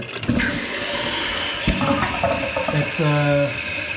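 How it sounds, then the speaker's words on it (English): A Kohler toilet is flushed with its handle, water rushing and gurgling through the bowl in a steady close wash, with clicks and clunks from the tank mechanism and a rising whine near the end. "When you when you flush the toilet, you push the handle down"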